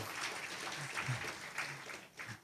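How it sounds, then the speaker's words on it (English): Applause from an audience at a High North Dialogue award ceremony, a fairly faint, steady patter of many hands with a few low murmurs or voices underneath, lasting the whole stretch. "you could give them a hard and warm applause"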